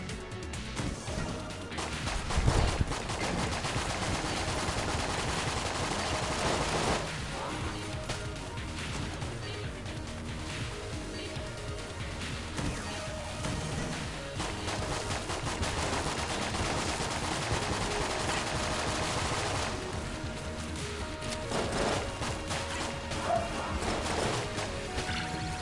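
Constant gunfire and crashing impacts from the bullet-hell dungeon game Enter the Gungeon, loud and dense with no pause, layered over game music across the whole stretch.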